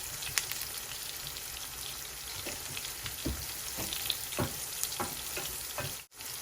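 Onions frying in a pan, a soft continuous sizzle with scattered crackles and pops, fairly quiet and close, briefly dropping out near the end.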